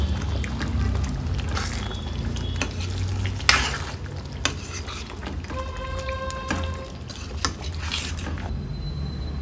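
Bitter gourd gravy with chopped coriander being stirred in a pan: steady sizzling bubble with scraping spoon strokes and occasional clinks of metal against the pan, no talking.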